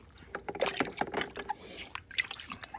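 A sponge from a home fish aquarium filter being rinsed and squeezed in tank water, giving close, irregular splashes, drips and sloshing in short bursts.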